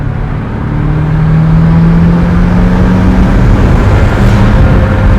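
Twin-turbo C8 Corvette tuned to 900 horsepower revs on a street, a loud, close, sustained engine drone that climbs in pitch and holds steady throughout.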